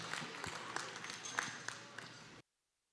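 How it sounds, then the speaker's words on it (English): Audience applause at a Texas livestock show prospect barrow class, a soft, distant patter of scattered clapping in a large arena hall that cuts off abruptly. "let's have a round of applause for all of our reserve champion"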